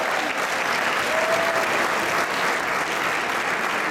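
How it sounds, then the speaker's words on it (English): Steady, dense applause from a large audience at a political party event, even and sustained for the whole stretch with no voice breaking through. "Malcolm Smith. Let's give him a round of applause"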